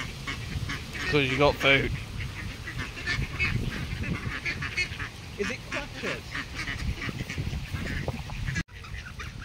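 Ducks and geese being fed at close range, a busy mix of quacks and sharp honks that carries on under people talking.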